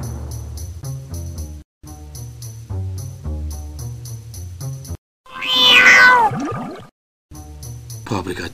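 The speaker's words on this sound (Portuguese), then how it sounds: "Pobre gatinho." A cat meows in a Frankenstein video game, a single loud, drawn-out cry that rises and falls between stretches of steady, layered music.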